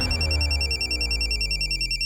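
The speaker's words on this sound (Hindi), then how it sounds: "लो फोन लो।" A telephone ringing with a bright electronic ringtone, a close, steady pulsing trill lasting about two seconds, with no voices over it.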